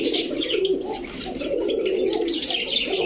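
A Lal Patti pigeon coos steadily and close up, with a continuous warbling murmur and a few chirps. Faint background noise runs underneath throughout.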